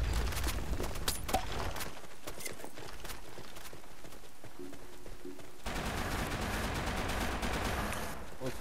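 Dense bursts of gunfire in the online shooter Blackshot, with rapid cracking shots crowded into the opening seconds and a steady wash of game noise continuing throughout.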